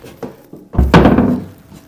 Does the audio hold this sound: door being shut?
yes